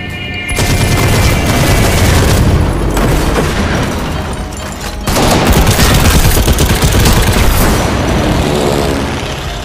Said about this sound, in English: Open wide! Incoming grenade!